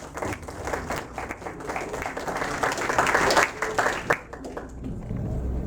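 An audience applauds steadily at a lecture, dense hand clapping swelling toward the middle and easing near the end, with a faint voice under the claps.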